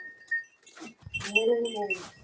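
A domestic goat on a goat farm in Chhatiana village, Punjab, lets out a single wavering bleat nearby, preceded by a few short scuffles and soft noises.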